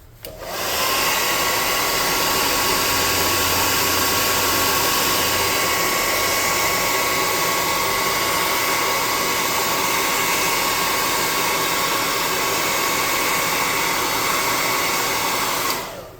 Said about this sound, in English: I'm going to air dry this.